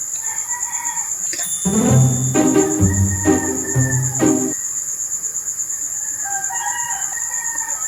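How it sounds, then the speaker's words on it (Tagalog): Several roosters crow in long, loud calls around the middle, repeating in overlapping bursts over a steady high insect-like drone and faint distant chirps, with no talking. "Natilaok na yung mga manok dito."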